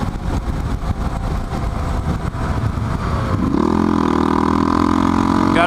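A motorcycle running out of gas on the road, its engine rumbling roughly and unevenly amid wind noise, then settling into a steadier, droning note, loud and close throughout.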